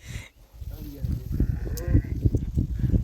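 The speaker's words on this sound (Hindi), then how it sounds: "ये बकरी है, बकरी का बच्चा दूध पी रहा है अपनी माँ से।" A goat kid bleats several times in quick succession while suckling from its mother near a camel by the Narmada river, with people talking close by.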